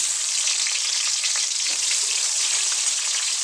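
Hot oil sizzling loudly in a pan before onions and chillies go in for a homemade chicken curry, a steady close hiss filling the whole stretch with no pauses.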